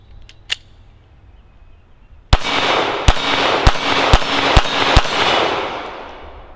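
Rapid gunshots from a Glock 42 pistol at a shooting range: six sharp, loud cracks in quick succession after a faint earlier pop, with range ambience ringing between shots.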